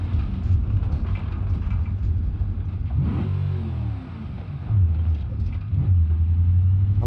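A 4.5 liter V8 car engine in BeamNG.drive, a loud, steady droning rumble that dips briefly, then rises again as revs climb and settle, no voices.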